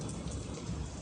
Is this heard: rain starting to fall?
yes